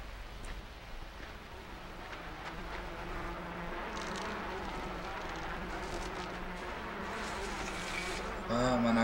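A steady, dense buzzing of bees around a hive in the video game Limbo swarms continuously at moderate loudness, with a brief bright chiming tone near the end.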